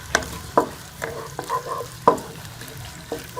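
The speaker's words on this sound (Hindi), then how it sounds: "इसमें ये प्याज का पेस्ट शामिल कर लेंगे और प्याज का कलर चेंज होने तक इसे फ्राई कर लेंगे" Onion paste fries in hot ghee, giving a soft, steady sizzle broken by several sharper scraping stirs of a spoon against the pan, up close and without talk.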